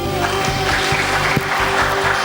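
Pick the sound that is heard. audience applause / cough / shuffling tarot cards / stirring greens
audience applause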